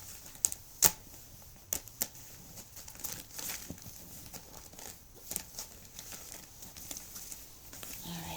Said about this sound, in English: Alright, so I'm going to go ahead and mix up the cards a little bit.